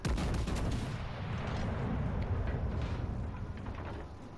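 Naval gunfire booms in World of Warships Legends, heavy battleship cannons firing shells in a loud sustained roar of overlapping blasts and rumble with no talk.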